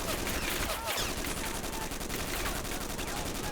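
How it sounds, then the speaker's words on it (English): Gunfire in the war video game World in Conflict crackles continuously as rapid automatic bursts, loud and sustained across the whole moment with no pause. "Get that gun firing"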